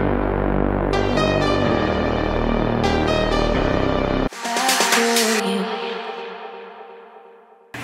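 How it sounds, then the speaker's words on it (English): A song's break with dense sustained synth chords and deep bass, loud and steady for about four seconds, then a shift to brighter gliding synth textures that fade out gradually. "With the bass and the synths of the break, they sound like this."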